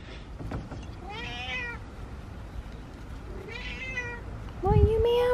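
A collarless stray cat meows three times at close range, two plaintive drawn-out calls followed by a louder, sharper one at the end, with a brief human sound early on.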